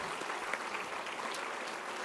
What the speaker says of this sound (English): So let's applaud all of these talented award winners.